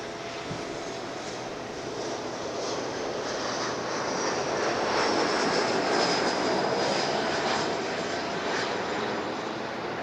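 An airliner roars past during plane spotting at Los Angeles International Airport, a steady loud broadband engine rush that builds toward the middle and eases slightly, with no one speaking.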